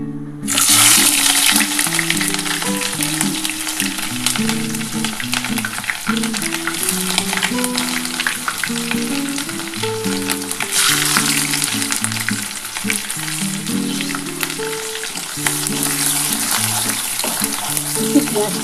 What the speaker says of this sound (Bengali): বন্ধুরা আমার তেলটা গরম হয়ে গেছে আমি পেঁয়াজটা দিয়ে দিচ্ছি